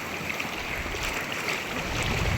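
Big waves at high tide wash along a rocky shore, a continuous broad roar of surf and rushing water with wind noise, steady and close, no voices.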